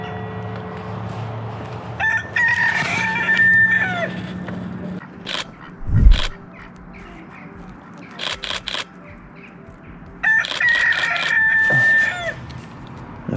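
A rooster crows twice in long drawn-out calls several seconds apart, with clucking and a few sharp knocks in between; outdoors, close and clear.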